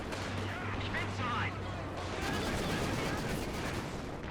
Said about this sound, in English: Panzergrenadiers opening, Panzerfusiliers opening fire.